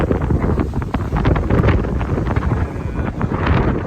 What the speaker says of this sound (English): Anyway, windy day. Storm just came through.